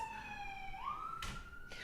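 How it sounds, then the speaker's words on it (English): Emergency vehicle siren passing outside on a short dead-end residential street, a faint wailing tone sliding upward with a couple of sharp knocks, heard from indoors. "Y'all hear the sirens? I think they're just passing right out front."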